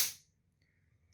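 A charged motor capacitor discharges in one sharp, loud spark crack, an instant bright snap that decays within a fifth of a second, followed by near silence and a faint thin hum.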